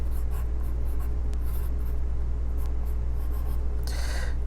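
Pencil or marker drawing on paper during a first grade art lesson, close and steady scratching strokes in short repeated bursts, with a brisker rubbing scribble near the end.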